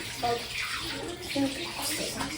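Water runs from a tap in a steady splashing stream while dishes, a plate and spoon, are washed, with brief clinks and a soft voice or two in the background.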